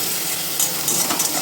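Onion frying in hot mustard oil, a dense, continuous sizzle close up, with faint stirring scrapes surfacing now and then.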